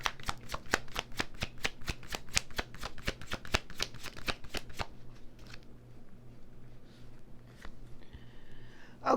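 Tarot cards being shuffled in a quick run of about fifteen crisp riffling snaps over roughly five seconds, close and clear, then quieter card handling and faint rustling on a steady background hum.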